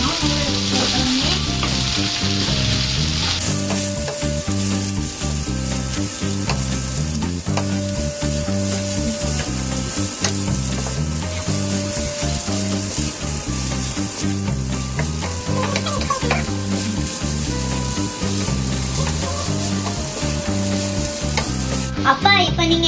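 Noodles tossed and stir-fried in a pan, restaurant style, with steady loud sizzling and repeated scraping and clanking of utensils throughout, backed by continuous music.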